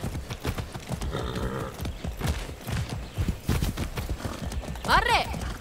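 Rhythmic clip-clop of horse hooves in the video game Far Cry 6, mixed with voices talking over them, ending with a short whinny-like burst.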